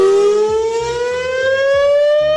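A loud warning siren blares steadily on its own, a sustained rising wail with strong harmonics filling the whole clip and no talk.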